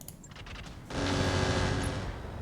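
Weapons fire from a mech in the Roguetech game, aimed at a wrecker: a loud, sustained burst of rattling gunfire that swells suddenly and holds steady after a quieter stretch of scattered shots.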